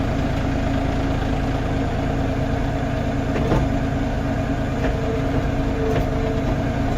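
An LS XR4145C tractor engine held just above idle at a little over 1,000 RPM, giving a steady low diesel drone with a mild vibration that runs evenly throughout, nearby and with no talk.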